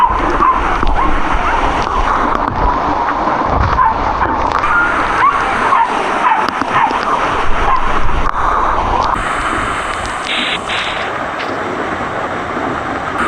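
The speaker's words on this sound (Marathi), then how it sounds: "हे बघा आता पूर्ण धबधबा पडतोय इकडं आणि आम्ही इथंच बसलोय" Loud, continuous roar of Sonara Waterfall in Shahapur, Maharashtra, crashing nearby, a dense rushing wash of water that stays steady throughout.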